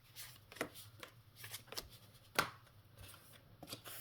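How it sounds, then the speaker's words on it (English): A deck of court cards for a tabletop board game is shuffled by hand, quiet irregular riffling and snapping bursts with a few sharper card slaps, close by and with no talking. "we'll shuffle up the court cards"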